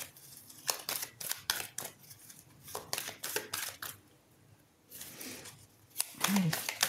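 Tarot cards are handled and drawn during a reading, giving bursts of crisp shuffling and riffling in quick runs separated by short pauses, close by; a voice murmurs briefly near the end.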